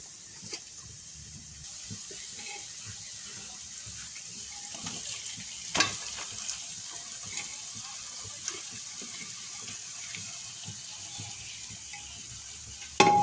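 Cooked polao rice is stirred into fried rice in a pan: a steady low sizzle runs throughout, broken by occasional sharp scrapes and taps of the spatula, with no one speaking.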